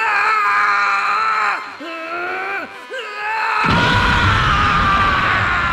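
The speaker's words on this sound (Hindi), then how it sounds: "वो बहुत जोर से चिल्लाने लगता है" Cartoon character Trunks screams loudly in an anime scene, a long, strained, wavering cry that swells into a harsh, sustained roar over a rising burst of noisy energy.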